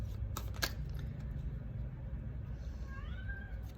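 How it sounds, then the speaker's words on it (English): A pet cat gives a short, rising meow near the end, heard faintly over a steady low background hum with a few soft clicks earlier. "My cat's like, meow."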